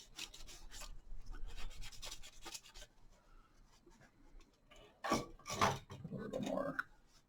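A cloth soaked in rubbing alcohol wipes across a motherboard in close, soft rubbing strokes, with a louder scrubbing burst near the end.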